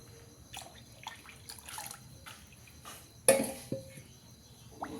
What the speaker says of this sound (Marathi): मी थोडंसं पाणी ओतून घेणार आहे अजून